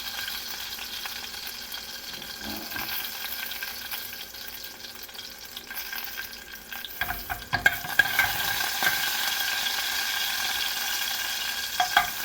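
Garlic and curry leaves fry in hot oil for street-stall sambar in Bengaluru, a steady crackling sizzle that grows louder and busier midway, with a few light stirring clinks.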